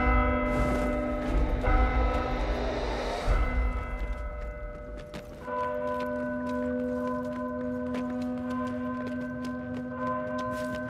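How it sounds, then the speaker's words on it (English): A large bell struck in the Warhammer Vermintide 2 video game, its resonant tone ringing out loud and clear and then sustaining as a long, steady hum after a second strike midway. "Strike the bell and let's begin."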